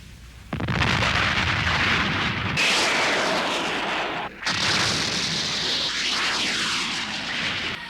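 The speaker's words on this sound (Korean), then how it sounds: "연료 저장소에 폭탄 투하" Bombs dropped on a fuel depot in an animated war film burst into a roaring, rumbling blast mixed with aircraft engine drone, loud and sustained over several seconds with a brief dip in the middle.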